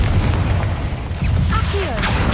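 Confringo fire spell in Hogwarts Legacy bursting with a heavy boom, followed by whooshing and swirling magical tones over a dense low rumble, loud and close.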